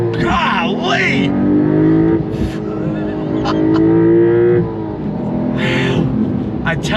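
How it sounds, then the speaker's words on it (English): A 2022 Porsche 911 GTS with small turbos accelerating hard from first gear, engine note climbing loud and close, easing off briefly and pulling again, with someone speaking over it. "First gear, on throttle, here we go."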